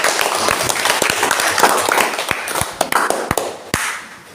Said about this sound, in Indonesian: Kita kasih aplaus.